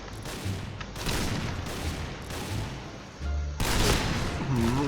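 Sniper and gun fire in a shooter video game, dense sustained bursts of loud shots with a heavier burst near the end, rolling continuously for the full stretch without clear speech.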